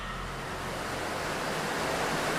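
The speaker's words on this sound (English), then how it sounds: "with the sound of the river flowing in the background" A river flowing: a continuous broadband rushing wash, steady and fairly loud throughout, with no voices or distinct events.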